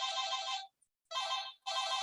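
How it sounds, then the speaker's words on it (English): A doorbell rings in three bright electronic bursts with short silent gaps between them, fairly faint and heard alone. "my doorbell's ringing."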